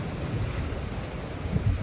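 Strong ocean waves crash along a Hawaii coast, heard as a continuous loud roar of surf mixed with wind buffeting the microphone, with no voices.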